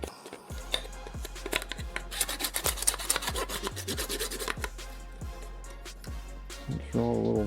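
Cut plastic edges of a Durango or Grand Cherokee sequential third brake light being filed to remove burrs: close, repeated rasping strokes in a steady back-and-forth rhythm.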